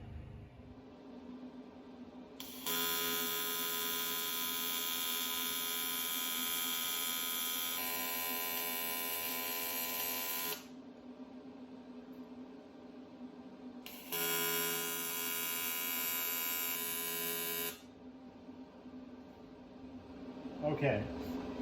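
AC TIG welding on cast aluminum from a Bombardier part: two sustained buzzing arcs of about eight and four seconds, each starting and stopping abruptly over a steady background hum, loud and close.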